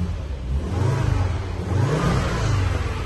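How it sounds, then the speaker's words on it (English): The engine of a 1999 Volvo V70 R runs close by, idling with a couple of smooth, brief revs rising and falling over a steady hum. "Engine sounds sweet."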